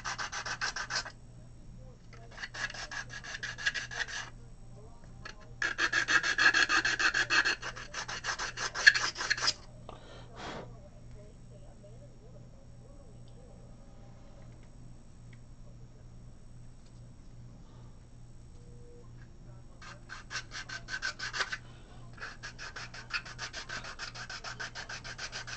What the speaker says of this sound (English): doing a little sanding and work on it